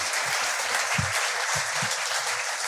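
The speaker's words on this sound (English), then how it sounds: "Let's give Jay a round of applause." Audience applause for basketball analyst Jay Bilas at a live talk event, a steady wash of many hands clapping at moderate distance, with a few low thumps beneath.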